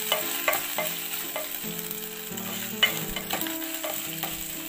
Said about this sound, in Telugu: తెల్లగడ్డ, అల్లం పేస్ట్ బాగా పచ్చి వాసన పోయే వరకు బాగా వేయించుకోవాలండి